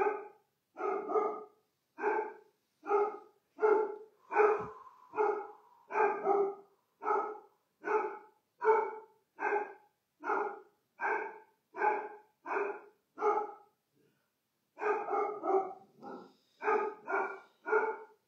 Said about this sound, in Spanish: mi perra Samantha se ha puesto a ladrar por alguna razón.